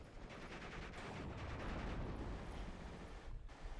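Dense, sustained rapid gunfire and explosions fill a Steel Division 44 battle at Carpiquet, with machine gun fire crackling continuously and loudly under a constant roar of combat.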